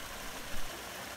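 Water rushes steadily in a broad, even hiss, a garden stream flowing over rocks in a Japanese garden in San Diego, continuous and fairly close.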